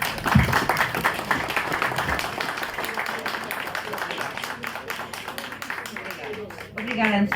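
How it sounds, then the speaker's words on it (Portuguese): An audience at a literary tribute event applauds steadily throughout, with overlapping voices talking beneath the clapping. "uma salva de palmas para ela"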